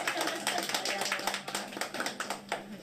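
Scattered audience clapping at a live local community show, with quick irregular claps close by, fairly steady for a few seconds under light talk.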